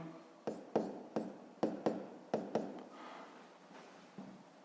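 Handwriting on paper, a quick run of crisp scratching pen strokes that then trails off into softer, fainter scribbles, heard up close with no voices.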